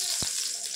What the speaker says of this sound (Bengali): আবার ওই কড়াইতে একটু ঘি দিয়ে দিলাম।